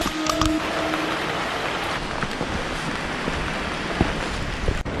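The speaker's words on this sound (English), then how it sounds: "It's raining." Steady rain falls on a mountain trekking trail in Nepal's Annapurna region, a dense, continuous hiss of drops hitting surfaces close by, with no talking.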